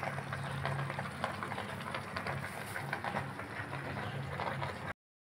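Water heating in a pot on a home stove gives a steady, low bubbling roar that continues evenly, then cuts off abruptly near the end.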